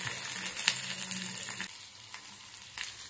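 Onion and capsicum frying in a wok for gobi manchurian, a close sizzling hiss that drops quieter midway, with occasional soft scrapes and no voices.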